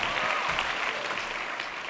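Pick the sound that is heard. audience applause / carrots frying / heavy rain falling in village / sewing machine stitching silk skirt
audience applause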